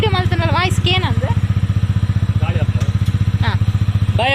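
A motorbike engine idles close by and loud, its fast, even thumping pulses running throughout while a person talks over it.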